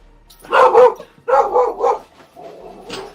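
A dog barks in three loud, close bursts over about three seconds, each a cluster of rough barks separated by short pauses, with no talk over it.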